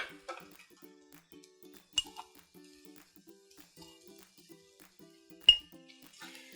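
Metal utensils clink against a pan as cooked rice goes into a South Indian raw mango rice dish, with a few light scrapes and two sharper knocks standing out amid soft kitchen activity.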